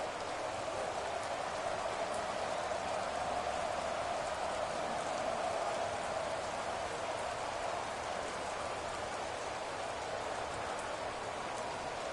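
Steady rain falls during a football video game, an even hiss of drops on the ground running throughout, soft and continuous with no voices.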